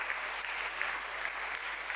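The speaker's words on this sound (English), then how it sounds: "probably thank them with big round of applause" Steady applause from a sizable conference audience at a game developers' event, dense clapping filling the whole stretch without pause or voices.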